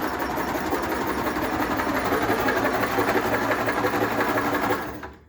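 A homemade screener machine for worm castings and compost runs with a constant rattling, buzzing mechanical drone, close and even, then winds down quickly in the final half second.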